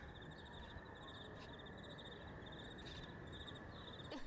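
Crickets chirp in a steady, rapid pulsing pattern as quiet ambient background, continuous throughout with no voices over it.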